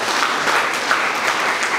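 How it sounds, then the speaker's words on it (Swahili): A church congregation claps steadily for Jesus at an Easter sermon, a dense, even patter of many hands close around, with no voices rising above it. "Mpe Yesu makofi mengi."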